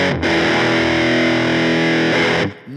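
An electric guitar through a kit-built overdrive pedal with the volume cranked rings out a thick, fuzzy chord for a couple of seconds, loud and sustained, then cuts off.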